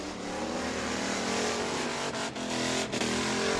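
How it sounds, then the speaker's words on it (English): Race cars doing dual burnouts at New Smyrna speedway, a continuous loud roar of high-revving engines mixed with tire noise, steady and close with a couple of brief dips, no talking. "Oh, dual burnouts. Here you go, ladies and gentlemen. Dual burnouts here at New Smyrna. Let them hear it."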